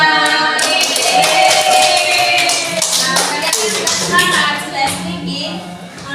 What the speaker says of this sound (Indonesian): tepuk jari 4, tepuk jari 5, tepuk jari semuanya.